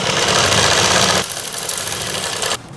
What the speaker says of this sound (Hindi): और अब हम इसके बिल्कुल किनारे पे सिलाई लगाएंगे